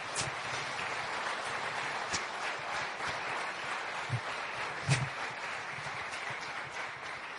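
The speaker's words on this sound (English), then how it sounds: "I would request you to give another round of applause" An audience at a book discussion on India's economic future gives a round of applause, a steady, moderately faint patter of clapping heard from a distance with a few sharper claps.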